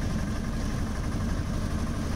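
A small three-wheeler tempo's engine runs steadily from inside the cabin, a continuous low rumbling drone with no pauses, on a short ride to a railway station in Veraval, Gujarat.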